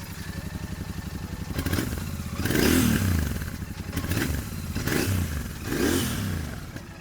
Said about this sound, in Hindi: और अब GT 650 का एग्जॉस्ट नोट सुनो।